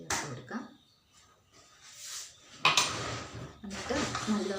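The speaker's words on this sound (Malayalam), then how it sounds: "ഒന്ന് മിക്സ് ചെയ്യണേ ഇപ്പം നല്ലപോലെ മിക്സ് ചെയ്തെടുത്തിട്ടുണ്ട്" A spoon works pineapple paste and milk together in a bowl, giving bursts of close scraping and clinking against the bowl with short pauses between them.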